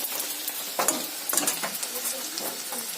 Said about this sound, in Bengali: আলু কষে ফেলেছি